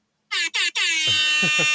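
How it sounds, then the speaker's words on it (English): Loud, close air horn blasts: two short honks followed by a sustained blare with rhythmic pulses underneath, all within a couple of seconds. "Got the air horns."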